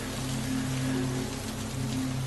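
Steady rain patters on tree branches and the ground, a dense, even hiss of drops holding at moderate volume with no voices.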